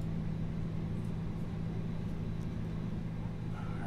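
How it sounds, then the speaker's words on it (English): Airbus A320 engines spooling up during start in the Fenix flight simulator: a steady low drone with a constant hum that holds evenly, close and moderately loud throughout, with no talk. "the engine noise is a lot better in the Phoenix"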